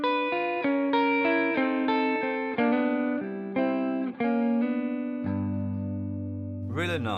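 An electric guitar with effects plays a slow blues lick beyond the pentatonic scale, with a run of picked single notes, then a held low note and a sliding bend at the end.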